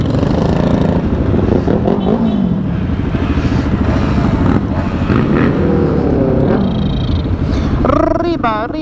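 Several motorcycles on a Halloween group ride rumble and rev loudly nearby, engines rising and falling in pitch, with people talking and shouting over them.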